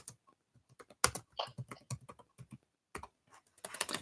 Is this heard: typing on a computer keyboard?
yes